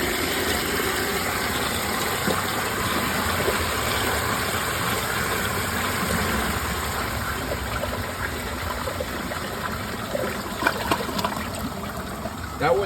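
A brand-new round Glacier Bay powerflush toilet on a mid tank flushes with a loud, steady rush of water that fills the whole stretch, with a few faint clicks and trickles near the end.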